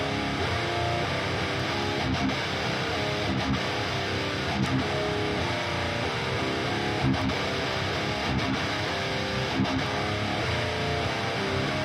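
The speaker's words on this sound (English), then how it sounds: "in high gain and distorted guitar tones" Dense, saturated electric guitar plays continuously with a thick, buzzing high-gain tone, loud and steady with brief rhythmic breaks in the chords.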